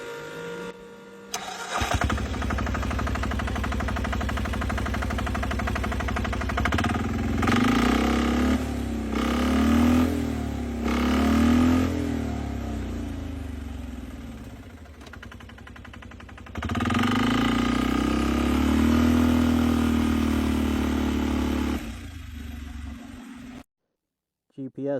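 Turbocharged Polaris diesel engine starting and running, a steady mid-pitched drone that rises and falls with revs, close and loud, with brief pauses and someone speaking over it.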